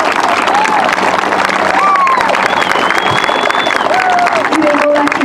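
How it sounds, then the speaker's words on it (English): Audience applause filling a hall, loud and dense throughout, with a few cheers and whistles rising over the clapping. "Let's give them a round of applause"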